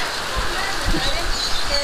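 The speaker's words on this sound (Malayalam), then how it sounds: "ഇന്ന് തകർത്ത് മഴ പെയ്യുക" Heavy rain pouring down, a dense, steady hiss of drops close by that runs without a break, with a voice talking faintly beneath it.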